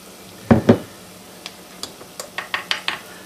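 Onions frying in about three tablespoons of butter and olive oil in a pan: a soft sizzle broken by a couple of heavier utensil scrapes, then a run of light clinks and taps.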